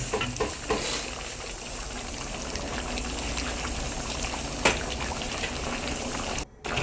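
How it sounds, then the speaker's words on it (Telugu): Chicken pieces boil in water in a dhaba kitchen before being fried in oil, a steady, dense bubbling and hissing that continues without pause, fairly loud and close, with no talking. "ఆ వాటర్ మొత్తం ఇంకిపోయేంత వరకు చికెన్ ఉడకనివ్వాలి"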